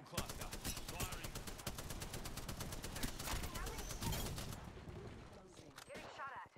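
Rapid automatic gunfire from a firefight in the Apex Legends battle royale game, a dense stream of repeated shots crackling continuously and loudly for several seconds before easing into scattered bursts near the end.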